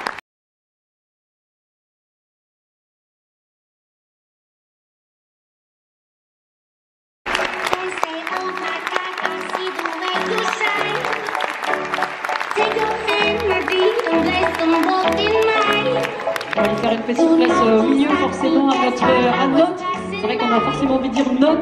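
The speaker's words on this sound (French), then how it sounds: "je crois qu'on peut l'applaudir encore plus fort" After a long stretch of silence, an audience at a regional cycling team presentation at Futuroscope bursts into sustained, loud applause that builds and holds for about fourteen seconds, with some cheering mixed in.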